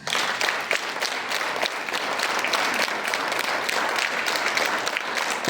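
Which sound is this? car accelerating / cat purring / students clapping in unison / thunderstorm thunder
students clapping in unison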